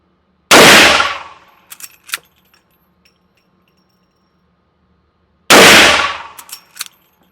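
Two loud, close gunshots from a Henry Mare's Leg lever-action in .44 Magnum, each a sharp blast with a ringing decay, followed by metallic clinks of the lever action and spent casings, with quiet gaps between.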